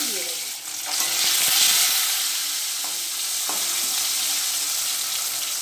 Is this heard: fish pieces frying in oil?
yes